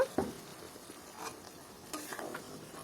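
Duck meat being stirred in a pot after water is added: soft scraping and faint sloshing strokes, a few brief clinks of the spoon, quiet and close with no voices.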